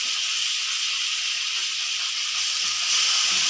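Crushed ginger, green chilli, garlic and curry leaves sautéing in hot oil, a steady bright sizzle and hiss that holds evenly throughout and swells slightly toward the end.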